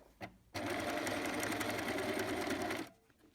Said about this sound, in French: Vous allez coudre votre lanière à 2 mm du bord.